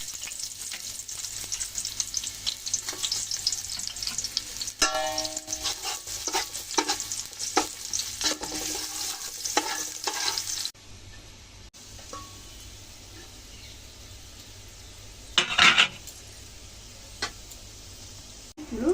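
Onions frying into crisp birista for chicken rezala, a steady loud sizzle with frequent spoon stirs and scrapes for about ten seconds, then a quieter simmer broken by a few sharp clinks near the end.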